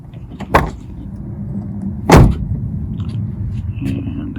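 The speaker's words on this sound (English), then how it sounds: "And you should see pretty soon the car will unlock." A car unlocking after a replayed key fob radio signal, heard as two sharp mechanical clunks from the door locks, about a second and a half apart, over a steady low hum of background noise.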